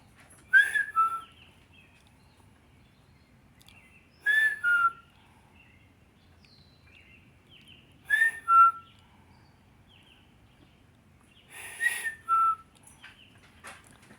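A person whistles an imitation of a bird call, four short two-note phrases, each a bright rising chirp and a lower note, spaced about four seconds apart with silence in between.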